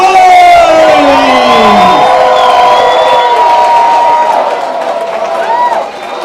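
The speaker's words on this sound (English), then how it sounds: "Let's give a big round of applause for our final 5!" A bar crowd at Sloppy Joe's in Key West cheers and whoops loudly for the final five contestants of the Hemingway Days Papa lookalike contest, and the shouting slowly tapers off over several seconds.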